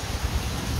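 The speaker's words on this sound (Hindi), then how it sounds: "ये देख सकते हैं कि बारिश शुरू हो गई है बहुत तेज।" Heavy rain beginning to pour at a dam: a dense, steady hiss and patter of rain close by, with no voices.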